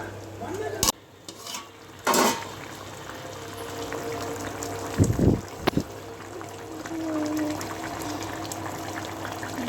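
Food stirred in a frying pan over a steady sizzle, with a few scraping strokes and clinks of the spoon against the pan, close, no talk.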